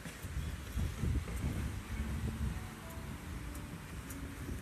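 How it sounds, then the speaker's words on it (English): Wind buffets a microphone on a Florida beach as the tide comes in, giving low, gusty rumbles that swell and ease throughout, with no talking. "Pretty windy, as you can see"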